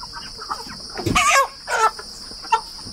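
Chickens clucking close by, a few short sharp clucks and squawks over a steady background hum, without talk.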